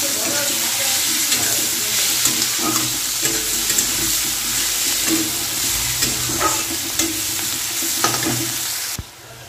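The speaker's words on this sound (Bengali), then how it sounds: "পেঁয়াজটা লাল লাল করে ভাজবো" Onions and green chillies fry in a pan for a tomato fish curry, a steady dense sizzle with occasional stirring scrapes, close and fairly loud throughout, cutting off near the end.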